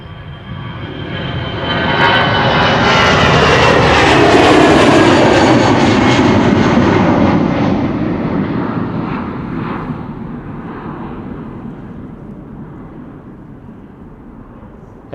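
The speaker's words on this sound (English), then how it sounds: "our next airplane coming is Aer Lingus flight 603 going to Dublin. A regular A320, 15 years old" Aer Lingus Airbus A320 jet airliner, fifteen years old, passing at Schiphol Airport: a loud broad engine roar that swells over the first few seconds, peaks near five seconds, then slowly fades as it moves away, heard alone.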